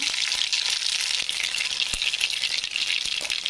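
Mustard seeds and cumin sizzle in hot oil: a bright, steady frying hiss broken by sharp crackles and pops as the seeds burst, close and loud, with nobody talking.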